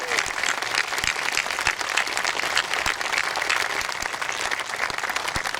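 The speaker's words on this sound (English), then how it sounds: "let's please give them a round of applause as well" An audience at the rechristening ceremony of the ship SS Col James M Schoonmaker applauds the painting crew with dense, steady clapping that lasts several seconds and carries a few low thumps.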